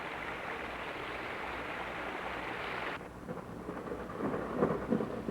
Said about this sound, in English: Then came days of relentless rain, turning this into the wettest July in 15 years.